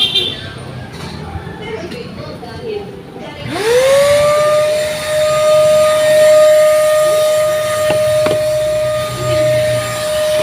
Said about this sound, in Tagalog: So yun guys, vacuum nga kami dito guys